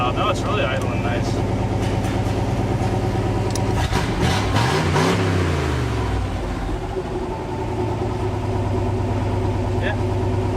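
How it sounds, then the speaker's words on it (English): A Ford F100 truck, back on the road after years abandoned, settles from a brief rev into a steady idle, its engine rumbling close by while someone talks over it. "now you let off the gas and it goes right to a perfect idle"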